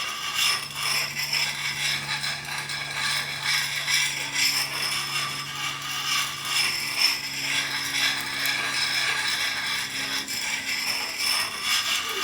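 An axe edge worked with the coarse side of a Lansky puck in overlapping circles, giving a continuous close gritty scraping with a faint low hum underneath.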